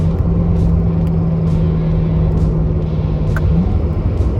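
A Corvette C8 3LT accelerating hard from inside the cabin: a loud, dense engine roar with a rising tone that drops abruptly near the end as the quick-shifting transmission changes gear, no talking.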